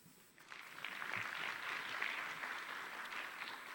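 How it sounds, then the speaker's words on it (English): An audience applauds after a speaker's talk at a business fireside chat event, a soft, distant round of clapping that swells in and holds evenly. "Let's give him another round of applause."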